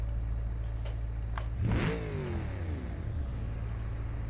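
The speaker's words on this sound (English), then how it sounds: "high performance V8 exhaust" A high performance V8 exhaust on a drift car in the BeamNG.Drive game, idling low before one sharp rev that climbs quickly and falls back to idle.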